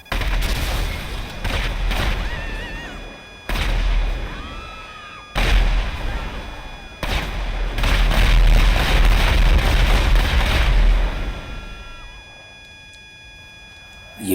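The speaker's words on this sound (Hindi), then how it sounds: "और अब करते हैं कुछ धमाके" Explosions from the video game GTA 5, a loud stretch of booming blasts and rapid gunfire-like bursts across the whole span, broken by a few brief pauses and fading toward the end.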